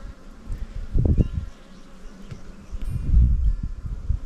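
Honey bees buzz around a beehive outdoors, a steady insect drone with two louder swells as bees pass close, low and continuous throughout.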